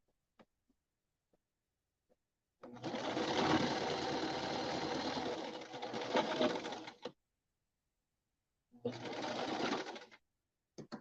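A home sewing machine stitching fabric scrunchies, two bursts of fast, even whirring stitching, about four seconds and then two seconds long, separated by silence and a few faint clicks, close and clear.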